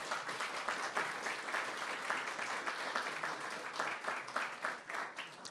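An audience claps steadily for Mayor Gray at a ribbon-cutting for the Park 7 development in Ward 7, the applause holding dense and even for several seconds with no voices over it.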